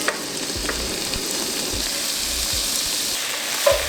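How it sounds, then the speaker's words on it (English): Bacon and shallots sauté in olive oil over medium heat, giving a loud, steady, close sizzle with a few soft stirring bumps and no voices. "We'll cook this until the bacon browns a little bit."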